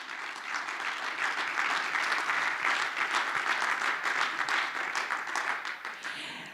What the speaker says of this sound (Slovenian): Da me prosim še enkrat aplavz za vse,